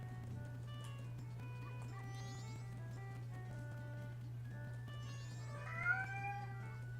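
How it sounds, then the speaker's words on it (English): A cat meows in a room, heard as several faint, wavering calls over a steady low electrical hum, with the strongest cry near the end of the stretch. "And my cat's meowing."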